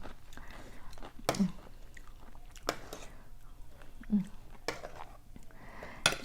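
Crunchy bites and chewing of cucumber with Vietnamese pork sausage from a spicy Thai cucumber salad, close to the mic, with a few distinct bites spaced over several seconds and no talking.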